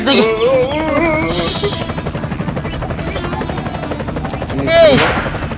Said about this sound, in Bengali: হেলিকপ্টার থেকে এলো কোন থেকে?